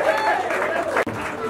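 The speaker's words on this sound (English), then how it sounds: "Clap for me now." A church congregation at a birthday service breaks into brief applause, a dense wash of clapping mixed with crowd voices, lasting only a moment.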